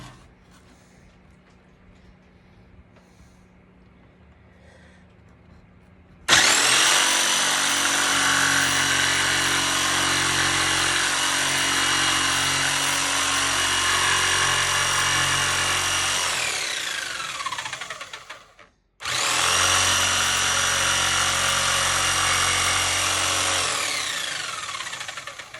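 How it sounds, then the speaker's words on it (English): A jigsaw with a laser guide line cuts through wood. Two long, loud buzzing runs are heard, the first about twelve seconds long and the second about seven, separated by a brief stop. No one speaks. "This little laser line helps a lot when using this jigsaw. So I'm just going to cut that out"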